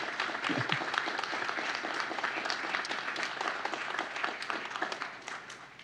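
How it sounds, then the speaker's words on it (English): A crowd at a community awards ceremony applauds steadily, dense clapping filling the room at an even level, thinning out and fading near the end. "round of applause"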